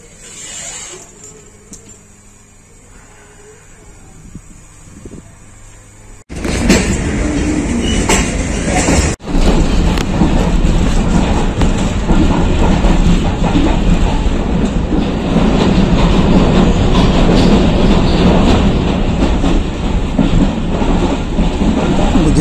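Tezgam AC sleeper passenger train of Pakistan Railways running on rails, starting with a quiet interior hum, then a sudden loud, steady roar of wheels and carriage rumble with rhythmic clatter continuing close by.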